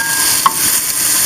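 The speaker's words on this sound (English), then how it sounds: "We want to get a good sear on the fish." Chilean sea bass searing in a hot pan with melted butter, giving a loud, steady high hiss of sizzling with one brief clink or scrape midway, no talking.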